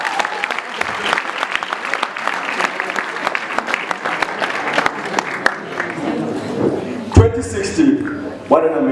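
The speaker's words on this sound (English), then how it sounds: "Give yourselves a round of applause." Students at a high school valedictory ceremony clap in sustained, dense applause for several seconds, loud and close, fading toward the end, with voices and cheering mixed in.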